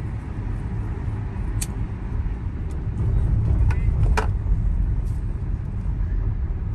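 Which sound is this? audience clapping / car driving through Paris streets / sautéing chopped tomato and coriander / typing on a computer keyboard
car driving through Paris streets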